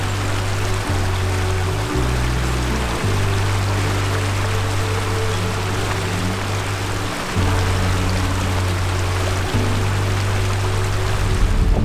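A creek flows beside an empty campground in the Utah backcountry, a steady broad rush of water that stays fairly loud and constant, with low tonal hum underneath and no one talking.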